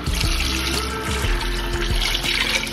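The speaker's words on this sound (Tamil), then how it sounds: "தண்ணி ஊற்றிக்கலாம்" Water pours steadily into a pot of country chicken curry being cooked for biryani, a continuous close gushing stream with bubbly splashing and no talk.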